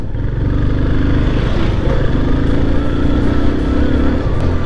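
A Yamaha 250 motorcycle is ridden, its engine droning loud and steady close by, with a continuous rumbling hum and little change in pace.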